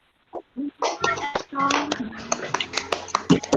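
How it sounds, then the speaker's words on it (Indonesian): Children in a classroom clap their hands in sharp, uneven bursts after singing, close and moderately loud, with scattered voices mixed among the claps. "Tepuk tangan semua dulu anak-anak."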